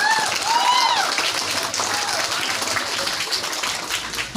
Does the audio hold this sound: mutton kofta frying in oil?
no